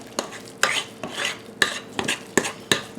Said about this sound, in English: Maybe 30 or 45 seconds of stirring.